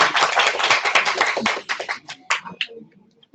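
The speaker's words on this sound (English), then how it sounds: "Clap for our foreign volunteer participants." An audience applauds volunteer participants in a classroom, a dense burst of many hands clapping that thins into scattered claps and dies away within a few seconds.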